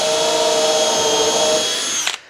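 A power drill whines at a steady high pitch as it pre-drills into wood on a boat's front deck, then winds down and stops abruptly near the end.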